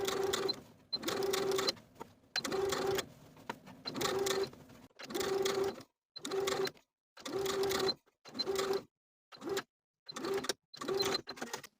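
A sewing machine understitches the neckline facing of a tie-front blouse in a dozen short bursts of stitching, each a second or so long, separated by brief pauses, close and steady with a faint whine.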